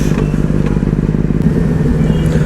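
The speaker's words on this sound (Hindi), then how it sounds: "क्या ट्रैफिक है" Busy road traffic with motorcycles, engines rumbling and sputtering up close in a continuous loud mix of passing vehicles, without speech.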